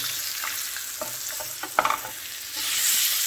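Pork chops being stir fried hiss and sizzle in a pan while they are flipped, a steady close fry broken by a few sharp scraping clatters, the sizzle swelling at the end, with no talking.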